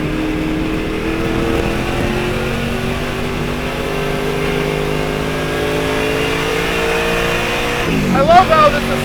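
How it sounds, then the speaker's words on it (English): A Mustang with a 4-speed manual gearbox accelerates through the gears, its engine note rising and dropping with each shift, loud and close, with a sharper burst near the end. "I love going through the gears in a 4-speed."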